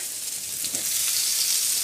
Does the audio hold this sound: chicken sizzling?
yes